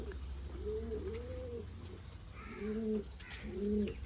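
Caged pigeons coo in several soft, rolling phrases, close by and fairly quiet over a low rumble of background hum.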